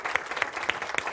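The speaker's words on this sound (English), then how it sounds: "So another round of applause for him too," An audience breaks into applause, a short burst of clapping at a moderate distance.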